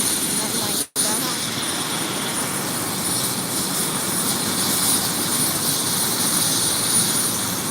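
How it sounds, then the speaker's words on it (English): A Samaritan's Purse helicopter lands to drop off supplies during flood cleanup in Marshall, North Carolina, its loud, steady rotor and engine roar filling the air close by, with only a momentary break near the start. "They just landed this helicopter here and they're dropping off some supplies for local residences"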